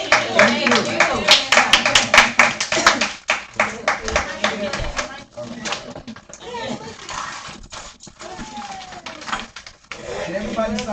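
An audience at an interview skills workgroup breaks into brisk clapping that fades after a few seconds, followed by scattered room noise and talking.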